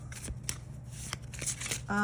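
A deck of tarot cards is shuffled by hand in a few quick, soft riffles and slides, faint and close, with a voice speaking over them.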